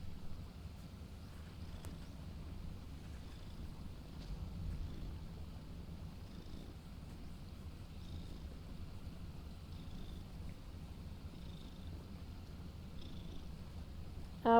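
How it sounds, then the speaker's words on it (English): A cat purrs softly and steadily close to the microphone, a low continuous rumble with gentle rhythmic pulses under faint room hiss, without any voices. "He's purring. He's purring."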